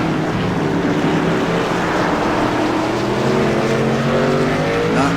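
Race cars of the AMS Wounded Warrior Cup Series at Sonoma Raceway roar continuously and loudly, engines droning with rising and shifting pitch through the turns.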